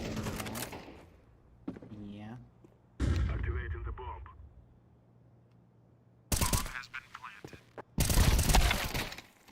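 Counter-Strike 2 gunfire rings out during a major semi-final match in sharp, loud bursts: an early shot, a heavy volley around the middle and two dense clusters near the end, with quiet stretches and voices in between.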